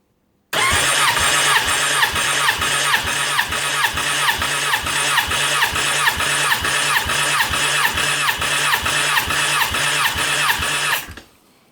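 Suzuki Bandit 1200 motorcycle engine, a cold engine, cranking on the starter during a compression test, a steady rhythmic churn of regular pulses lasting about ten seconds, loud and close, then stopping abruptly.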